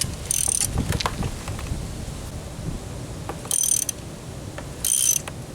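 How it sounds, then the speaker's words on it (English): A hand ratchet turning a 1/2-inch socket on a Jeep Wrangler YJ leaf spring bolt clicks in three short rapid bursts, close and clear, with quiet pauses between. "I'm using a 1/2-inch socket."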